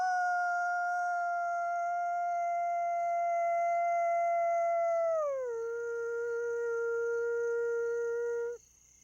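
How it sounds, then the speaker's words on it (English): In park wilderness a wolf holds one long, clear howl that slides down in pitch midway and sustains before cutting off, with a faint steady insect drone underneath. "actually hearing a wolf howl"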